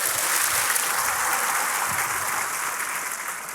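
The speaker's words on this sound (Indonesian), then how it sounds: "tepuk tangan semua untuk Mbak Nur" An audience applauds for Mbak Nur at a gathering with Kiai Kanjeng, a steady broad wash of clapping from a large crowd that holds evenly throughout.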